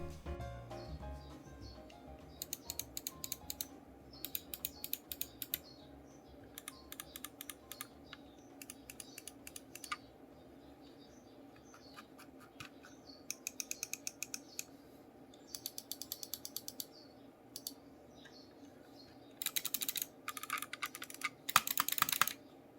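Bursts of rapid clicks from a Rakk Dasig wireless mouse with Huano blue shell white dot switches come in short clusters, crisp and close, separated by pauses over a faint low hum.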